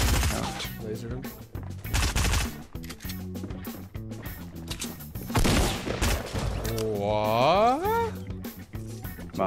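Rapid bursts of gunfire crackle in a Fortnite match, dense repeated shots in clusters alongside game effects, with people talking over the action.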